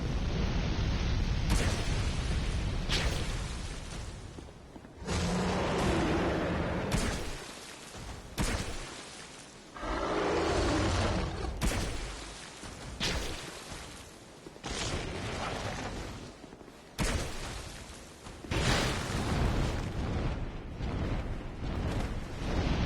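A dragon's fire attack in Dark Souls 2 at Heide's Tower of Flame: repeated loud roaring blasts and whooshing bursts, each a few seconds long with brief gaps, forming a heavy rumbling, pulsing barrage.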